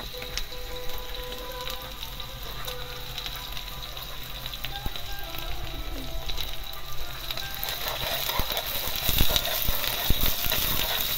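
Onions fry in a pan with a dense, continuous sizzle and crackle, steady and close throughout, growing a little louder near the end.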